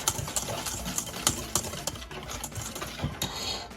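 Coleslaw dressing of mustard and sugar is mixed together in a bowl, making a rapid run of close clicking, tapping and scraping utensil sounds with no voices.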